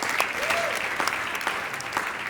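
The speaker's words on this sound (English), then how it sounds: "Give it a round of applause" Audience applause at a Q&A panel, a steady burst of clapping from a crowd in a room throughout, with a faint voice beneath.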